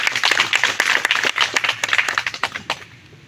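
Audience applause for Dr. Juma Zuberi Homera at a village electricity launch, dense rapid clapping from a crowd that thins into scattered claps and fades toward the end.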